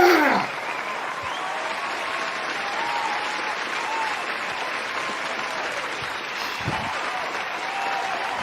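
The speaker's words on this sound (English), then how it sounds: "A roaring round of applause, man." A steady, roaring round of applause from a large crowd carries on for over eight seconds with faint laughter in it, after a brief voice at the very start.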